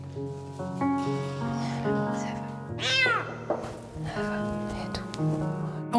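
A frightened kitten, newly taken in from the street and fearful of people, gives a clear meow in the middle, heard over a steady musical background.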